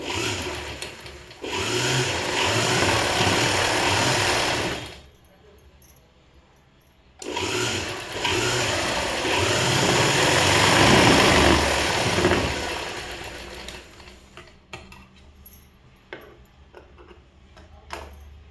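A sewing machine double-stitching school uniform fabric, running in a fast, steady whir of needle strokes for two long bursts separated by a short pause, then fading to scattered ticks and handling noises.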